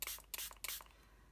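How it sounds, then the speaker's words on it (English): A spray bottle mists color onto a junk journal background page in three quick, close hissing bursts, followed by a short quiet tail. "And we'll just give that quite a bit of a spray."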